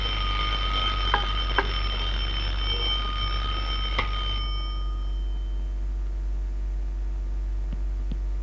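An alarm clock rings with a steady, bright electronic tone over a low constant hum, sounding continuously for about four seconds before cutting off, followed by a few faint clicks.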